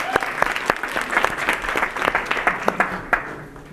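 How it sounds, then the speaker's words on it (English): An audience at a belief-change seminar claps for attendees who stood up, brisk and fairly close with sharp individual claps over a thick patter, fading near the end. "Round of applause for everybody who stood up."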